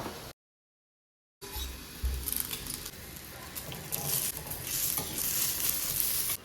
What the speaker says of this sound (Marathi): दुसऱ्या गॅसवर तवा ठेवून त्यावर 1 चमचा तेल घालून मिरच्या थोड्या शेकून झाल्यावर लसणाच्या पाकळ्या